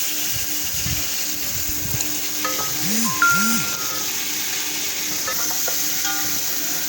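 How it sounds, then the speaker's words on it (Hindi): Mutton browns in oil in a pot with browned onions for Kabuli pulao, giving a loud, continuous sizzle with occasional stirring scrapes and a few brief low voice sounds. "अब ये गोश्त को अच्छे तरीके से भून रहे हैं हम लोग"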